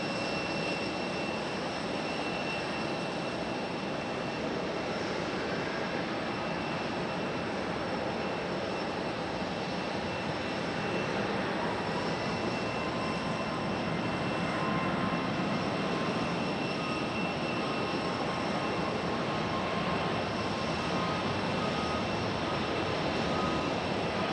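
An Airbus A220 jet takes off from runway 23 left at Raleigh-Durham International Airport, a steady, loud broadband engine roar that holds throughout and swells slightly toward the end, with no talk.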